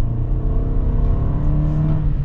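A 2022 Toyota Sienna XSE Hybrid minivan easing off and coasting, a steady low drone of road and drivetrain noise from inside the cabin with faint whir, no talk.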